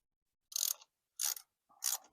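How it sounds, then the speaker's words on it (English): Three separate bursts of a ratchet socket wrench clicking as a 5/8 spark plug is loosened from a Boom Vader 125 Honda Grom clone motorcycle, each short burst close and crisp with silence between. "Go ahead and get the spark plug out of there."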